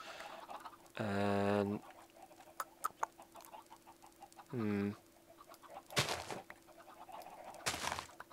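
Chickens clucking in the Minecraft video game, two short bursts of harmonic fowl calls about a second apart, with a voice and clicks and thumps around them.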